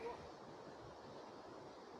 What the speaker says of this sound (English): So that's like the runoff from the waterfall and smoke from the waterfall.